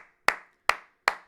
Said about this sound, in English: Can we just all real quick just clap it up?